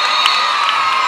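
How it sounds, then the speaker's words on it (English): A roller derby crowd at an Ireland versus Japan match cheers and screams wildly in a dense, high-pitched roar that holds steady throughout the brief moment. "the crowd goes wild"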